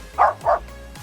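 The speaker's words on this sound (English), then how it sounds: "he's barking already because he knows it makes a sound" A dog gives two quick, sharp barks close by, a short yip-like pair with a faint whimper trailing off after, reacting to a cordless circular saw in a garden.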